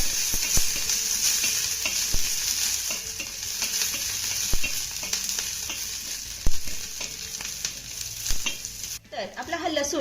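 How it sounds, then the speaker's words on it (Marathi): Green chilies and peeled garlic roasting in half a spoon of oil until blistered, with a dense, bright sizzle and sharp sputtering pops close up, easing slightly toward the end. "ह्या मिरच्या आणि लसूण आपल्याला डाग पडेपर्यंत चांगलं भाजून घ्यायचं आहे"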